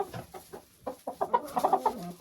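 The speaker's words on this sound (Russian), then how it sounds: "Это петушок Амераукана." A five-month-old Ameraucana rooster clucks in a greenhouse coop, a close series of short throaty calls that quicken into a rapid run of clucks, with no talk over them.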